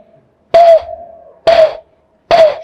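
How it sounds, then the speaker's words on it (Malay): Call of the balam bird, the spotted dove: three loud, close coos, each opening with a sharp onset and trailing into a steady hum, spaced about a second apart with silence between. "Tu bunyi buruang balam."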